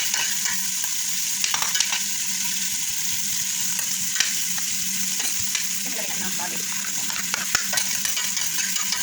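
Onions frying in a pan for chicken tinola, sizzling steadily up close while a utensil stirs them with irregular scrapes and clicks, and nobody speaks.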